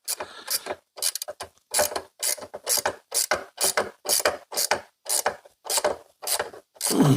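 A ratchet wrench tightens bolts on GP Kompozit engine crash bars fitted to a CFMoto 300NK motorcycle, a close rhythmic series of short clicking bursts repeated about a dozen times with brief pauses between strokes.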